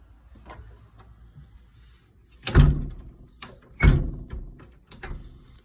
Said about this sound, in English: front door, whoops, accidentally came open